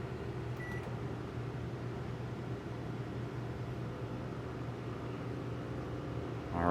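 A microwave oven hums steadily at close range, a continuous low drone with a faint beep near the start.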